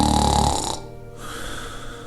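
A storyteller's voice imitates a dog snoring in a children's tale, a loud, rough rasping breath that fades into a softer, quieter exhale with no words spoken.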